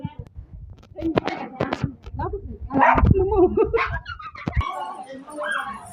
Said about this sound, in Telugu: మనజ గారు మీ కుక్క పిల్లలు ఏవి చూపించు